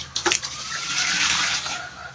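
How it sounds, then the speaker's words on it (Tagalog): Water is poured into a mixture of ash and charcoal for briquette making, a close, steady splashing gush lasting about two seconds after a brief knock. "kapag nahalo na ho siya ng maigi, ay maglalagay na ho tayo dito ng tubig."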